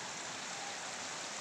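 Water flows in a mountain stream near Iloilo City, a steady, dense rushing sound that is close and continuous with no other sounds.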